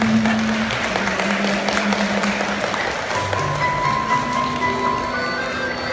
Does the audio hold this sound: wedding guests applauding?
yes